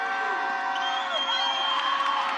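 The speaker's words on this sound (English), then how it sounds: "Cougar crowd trying to come alive on the defensive side" A home crowd at a Washington State Cougars women's basketball game against Montana roars with sustained cheering and whoops, a dense continuous wash of voices filling the arena.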